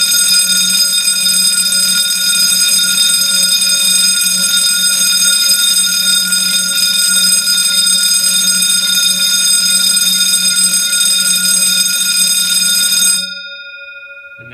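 A loud, steady vintage Wheelock vibrating fire alarm bell rings continuously for several seconds during a fire alarm system test, then cuts off abruptly, leaving a fainter lingering tone.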